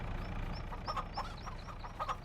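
Chickens in a coop in the farming game Farming Simulator 25 cluck and chirp in short repeated calls over a steady low background hum.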